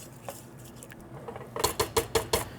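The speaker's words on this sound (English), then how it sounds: "Add everything to your pan." Ingredients for a syrupy, jammy chutney dropped into a pan, a quick series of about five light taps and thuds close by, following a few softer clicks, no talking.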